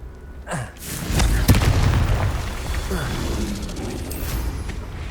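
Confringo blasting spell explosions in Hogwarts Legacy: a sharp booming burst near the start, then a rumbling, crackling blast tail carrying on loud and dense for several seconds.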